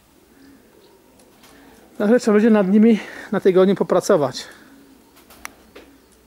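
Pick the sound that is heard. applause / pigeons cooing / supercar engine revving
pigeons cooing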